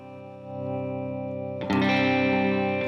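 A sustained dry electric guitar chord rings out with light delay and reverb trailing behind it, then a brighter, louder strum takes over and holds.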